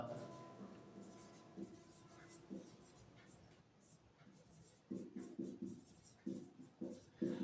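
A pen scratches out a geometry solution for the area of a pentagon in a class 8 math lesson. Faint, quiet scribbling comes in short strokes, growing into firmer bursts of writing toward the end.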